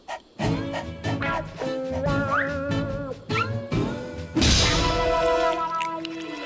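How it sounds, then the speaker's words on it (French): A cartoon cat from Lucky Luke meows a few times amid thumps and a loud crash, with tonal electronic sounds running underneath. "Un chat."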